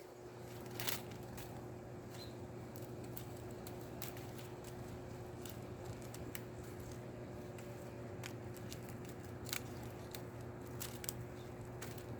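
Pruning shears snip thin blueberry branches outdoors, giving scattered sharp clicks over a low steady hum, faint and spaced irregularly.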